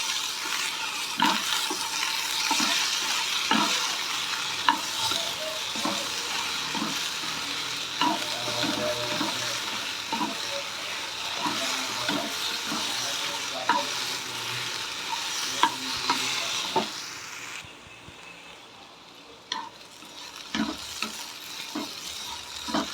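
Okra and egg stir-frying in a pan, a steady sizzle with scraping stirs and clinks, close up with no talk, easing to a quieter hiss toward the end.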